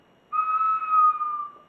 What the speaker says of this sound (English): It's a little ceramic whistle.